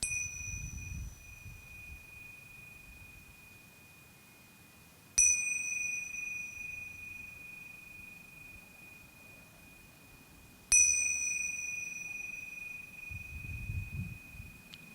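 A meditation chime rings three times at even intervals, each bright metallic strike sustaining and slowly fading into near silence, heard alone and clearly.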